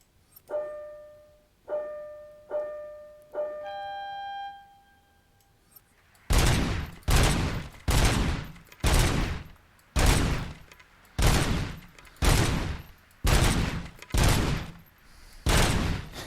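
Gunfire at a shooting range in the Robocop: Rogue City video game: four beeping tones sound first, then a regular series of about ten loud, sharp shots rings out evenly spaced and close.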